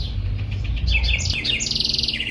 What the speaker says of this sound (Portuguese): Tem um passarinho bem bonitinho cantando